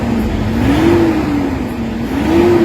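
A Toyota Hilux engine suffering low power and throttle delay revs steadily, its tone rising and falling in two slow swells, loud and close with no talk.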